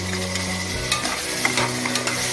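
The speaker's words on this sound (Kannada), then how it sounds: "ಈಗ ಈ ಥರ ಇಷ್ಟು ಫ್ರೈ ಆಗಿದೆ, ಎಣ್ಣೆಯಲ್ಲಿ ಚೆನ್ನಾಗಿ ಹುರಿದಿದ್ದೀನಿ ಇದನ್ನು." Ingredients fry in oil in a pan for bisi bele pulao, a continuous close sizzle broken by scraping stirs and a few sharp clinks of the spoon against the pan.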